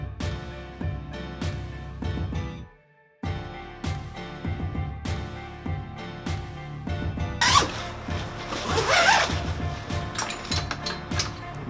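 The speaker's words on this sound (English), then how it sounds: "zippers are good." A zipper on an adjustable travel bag being worked, with quick rasping pulls mixed with clicks and knocks of buckles and handles, close and fairly loud, ending in a longer stretch of dense zipping.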